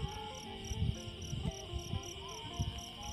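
Field crickets chirp in a steady, high-pitched pulsing drone, close by in holes along a rice-field embankment, with a few soft low thumps underneath.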